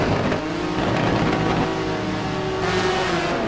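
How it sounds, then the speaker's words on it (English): GT race car engines rev together on the grid before the start at Fuji in a racing video game, a loud, continuous layered drone with rising and falling pitch. "you hear the revs coming on now, so these guys are getting ready to go"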